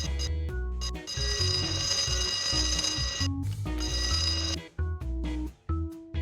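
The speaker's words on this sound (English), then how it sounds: "There's a fire alarm here." A fire alarm in the video game BroomSweeper rings in bright, sustained electronic bell tones, pulsing with brief breaks near the end.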